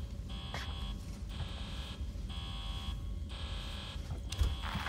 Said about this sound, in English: Also, I hate that alarm.